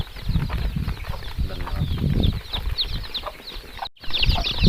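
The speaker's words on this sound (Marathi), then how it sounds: "खूप छान पिल्लू आहेत कडकनाथ कोंबडीचे पिल्लू आहेत" Kadaknath chicks two to three days old, a busy chorus of high, rapid peeping and cheeping close by, continuous with small fluttering and rustling movements mixed in, no talking.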